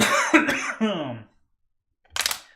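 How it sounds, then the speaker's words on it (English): Speech is followed by a pause, then a short, harsh burst that sounds like a single cough, close and fairly loud. "That one was so good it made me cough."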